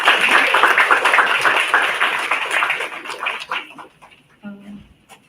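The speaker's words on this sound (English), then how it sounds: "So please put a round of applause for the judges we have here." An audience at an international student film festival at Techno India University claps loudly for the judges, then the clapping fades out over a few seconds and a voice follows.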